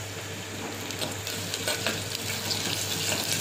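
Sliced big onion frying in oil with chana dal, dried red chillies and curry leaves for a potato-dal sambar, a continuous close sizzle with light stirring, no voices.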